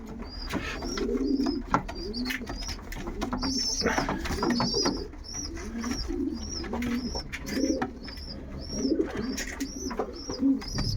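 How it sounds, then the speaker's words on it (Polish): Breeding pigeons in a loft compartment coo repeatedly in soft, rhythmic throaty phrases, several birds overlapping close by, with occasional wing shuffles and faint chirps and no speech. "A tutaj jest przedział gołębi rozpłodowych"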